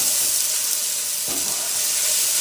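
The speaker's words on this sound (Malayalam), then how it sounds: "സവാള നല്ല മൂത്തെടുക്കണം" Onions fry in a pan for a Kerala-style egg roast, a loud, continuous close sizzle with a brief stir or shuffle midway.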